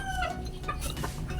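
A gamefowl hen, a laying pullet around six months old in a backyard, gives soft repeated clucks at close range, with faint chirps and rustling around her.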